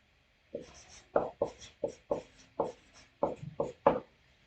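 Chalk writing on a classroom board during a Hindi-medium Class 12 physics lesson, about ten distinct scratchy strokes in an uneven rhythm, close and fairly loud with no talk over them.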